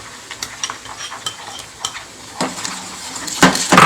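Two beaten eggs frying with rice in a pan for egg fried rice, a soft sizzle broken by scattered spatula clinks and scrapes that grow louder and busier toward the end.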